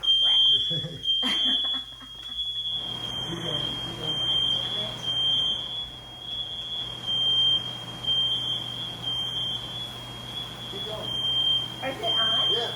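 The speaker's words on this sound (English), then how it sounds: "Super sensitive smoke alarm." A very sensitive home smoke alarm goes off in a kitchen while shrimp is being cooked, sounding a shrill, steady high tone broken by repeated beeps as people talk underneath.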